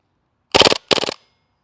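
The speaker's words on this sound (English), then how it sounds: "Let's see how it fares on full auto." A gas-powered airsoft gun fires on full auto at a target about 40 feet away: two quick, close bursts of rapid clacking shots, separated by a short pause.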